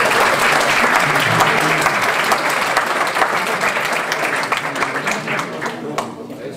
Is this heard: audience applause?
yes